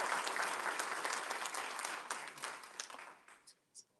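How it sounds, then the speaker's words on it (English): Audience applause at a Commonwealth's Attorney candidate debate, a dense burst of clapping that thins and fades out toward the end, with scattered last claps. "Please clap it up first."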